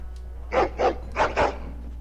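A pit bull in a video game barks four times in two quick pairs, loud and close, with a low steady hum underneath and no one talking.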